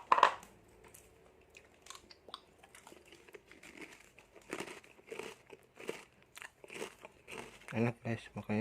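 Someone crunches and chews a packaged seblak snack up close in uneven bursts, with louder bites near the end. Quiet talk and wrapper crinkles come between the chews.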